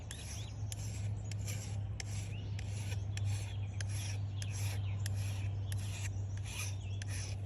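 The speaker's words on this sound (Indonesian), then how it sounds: "Kita asahin dulu" A steel file rasps steadily over a blade being sharpened, in quick, regular back-and-forth strokes over a constant low hum.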